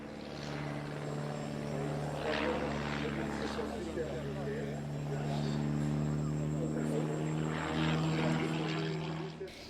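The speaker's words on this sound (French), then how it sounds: "le pilote de voltige Luis Peña a fait toute la démonstration de son talent sur un avion grandeur nature" A full-size aerobatic propeller airplane performing at a model aircraft show, its engine droning steadily and rising and falling as it maneuvers, under a narrator's voice.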